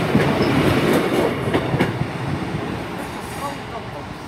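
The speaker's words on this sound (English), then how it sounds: "Also arriving in is 153327, which is on the 1558 Transport for Wales service to Maesteg" A Class 153 single-carriage diesel unit, number 153327, pulls into Gloucester station on a Transport for Wales service, its rumbling engine and rolling wheels steady and fairly close before easing off slightly toward the end.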